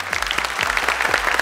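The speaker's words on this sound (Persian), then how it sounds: "تشویق کنید." Studio audience applause on a family quiz show, a steady dense patter of many hands clapping at close range, alone and without talk.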